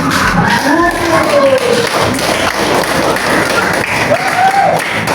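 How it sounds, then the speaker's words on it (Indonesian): A class of students claps together, a dense steady patter of hands with lively voices calling out over the top throughout. "Ya, kita beri tepuk tangan."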